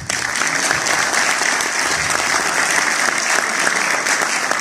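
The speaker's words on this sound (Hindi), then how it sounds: "बहुत सारी तालियों में शबीर शाह साहब" Warm audience applause greeting a leading stage actor at a theatre performance, a dense, steady roar of clapping from a sizable crowd lasting several seconds.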